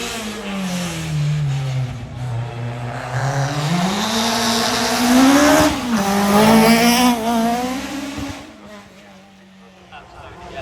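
A powerful tarmac rally car at Rallye Prescott roars past the finish line, its engine note climbing and shifting pitch as it accelerates hard nearby, then fading away toward the end.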